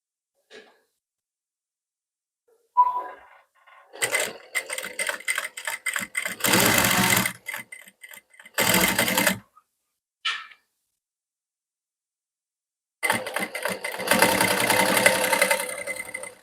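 A sewing machine stitches a double katori blouse front, running in several separate bursts of rapid mechanical whirring with silent pauses between, close and fairly quiet.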